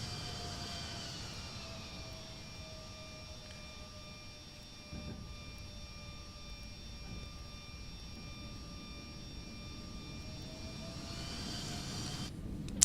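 A steady, faint jet engine whine from an Embraer E190 in the X-Plane 12 flight simulator holds even throughout, with thin high tones above a low rumble.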